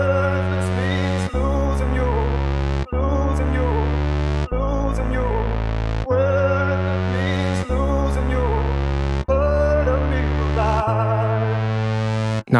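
Hip-hop beat built from a chopped vocal sample with added bass, the vocal chops repeating in short sections over a deep, steady bass pattern, loud and upfront.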